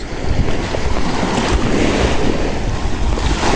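Sea waves and surf wash steadily at the shore where people swim, a loud, continuous roar with wind buffeting the microphone.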